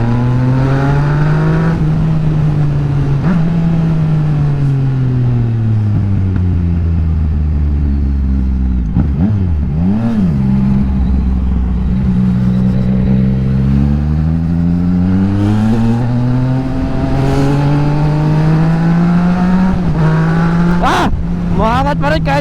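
A Yamaha XSR900 motorcycle engine pulls hard through rising and falling revs, its loud, steady drone sweeping up and down in pitch over a long stretch of riding with constant wind rush.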